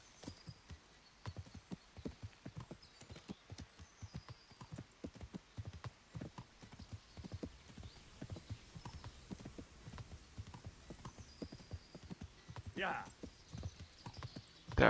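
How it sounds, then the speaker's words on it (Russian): Hooves of a horse ridden downhill in Kingdom Come: Deliverance clop in a quick, uneven rhythm, fairly quiet and steady, with a short whinny near the end; a voice talks over it at times. "я на лошади даунхилл тут устроил"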